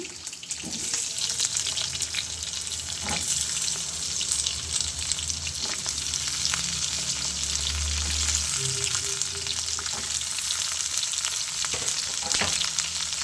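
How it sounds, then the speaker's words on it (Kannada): Chopped ivy gourd fries with green chilies in a pan for chutney, making a loud, continuous close-up sizzle broken by occasional spatula stirs and scrapes. "ಇದನ್ನು ಚೆನ್ನಾಗಿ ಫ್ರೈ ಮಾಡ್ತಾ ಇರೋಣ"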